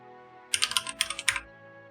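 A computer keyboard gets a quick flurry of about a dozen crisp, close key clicks packed into roughly a second, then stops, over a quiet background hum.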